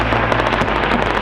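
Heavy gunfire during a battle, as insurgents attack a US and Afghan outpost in the Afghanistan war: a dense, continuous, loud clatter of shots with no pauses and no voices.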